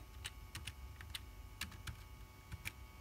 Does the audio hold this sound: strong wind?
no